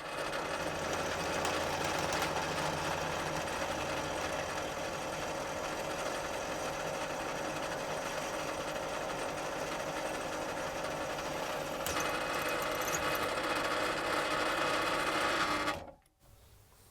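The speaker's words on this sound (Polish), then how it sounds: "Zastosujemy wiertarkę bardzo znanej marki." A continuous high whine of an electric drill with a sharp bit running close by for about fifteen seconds, then stopping abruptly.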